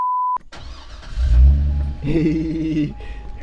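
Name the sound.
Chevrolet Corvette engine starting up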